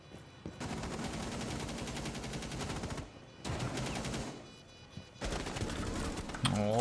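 Rapid automatic gunfire from the video game Free Fire comes in three sustained bursts separated by short pauses, loud and close, ending with a brief higher-pitched chirp.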